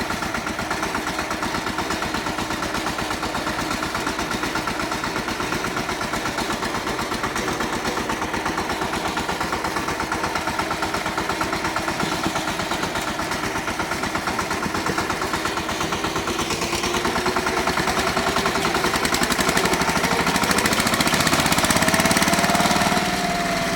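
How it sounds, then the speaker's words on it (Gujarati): A tractor engine runs steadily on a rough road, a loud, close, continuous mechanical drone with a knocking, chugging pulse that rises a little toward the end. "આપણું ટ્રેક્ટર પણ હમણાં ફાસ્ટ જવા માંડ્યો"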